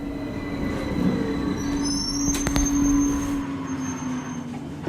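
A train pulls into Walthamstow Central, where the line terminates. It rumbles steadily and close by, with a sustained wheel squeal, faint metallic screeches and a brief clank as it slows.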